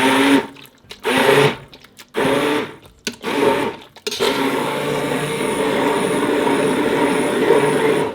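A blender blending cooked apples for applesauce, loud and close, starting in short pulsed bursts and then running continuously.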